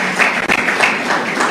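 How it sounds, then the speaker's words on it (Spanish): Congregation applause in a church service honoring a pastor's family, a burst of many hands clapping fairly loud and close, sustained with slight dips, no speech. "Un aplauso a esta familia"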